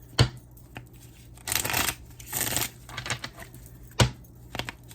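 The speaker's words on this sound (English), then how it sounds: "One more good shuffle." Tarot cards riffle and slap together in a soft, close shuffle, with a few sharp taps and two longer rustling bursts of cards sliding against each other.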